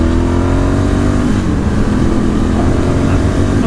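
A 2018 Ducati Scrambler 1100 Special motorcycle, still being run in, revs hard toward about 6,000 rpm, a loud continuous engine roar with rising and falling pitch close by.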